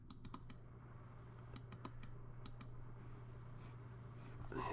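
Keys clatter on a computer keyboard in two quick bursts, then scattered single taps, over a steady low hum from a nearby fan or machine; no one speaks.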